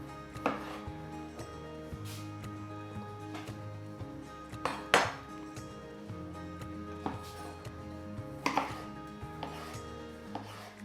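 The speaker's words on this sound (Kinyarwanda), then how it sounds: "Aha nkase demi cercle, ariko turagerageza gukata duto duto." A knife chops vegetables into small half-moon pieces on a cutting board for a tuna macaroni salad, with sharp close thuds in uneven bursts over a faint steady background hum and no talking.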